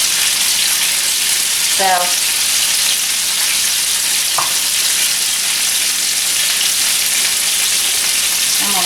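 Pork chops searing loudly in a hot pan, a dense continuous sizzle close up, with a brief voice and a couple of short clinks over the hiss.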